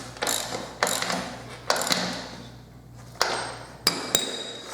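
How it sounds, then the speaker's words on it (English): A ratchet tightens the rear axle nut on a Yamaha WR250R motorcycle, giving several bursts of close, loud clicking separated by brief pauses, with a faint metallic ping near the end. "So pull up the chain, tighten the axle nut."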